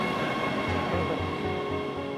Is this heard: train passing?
yes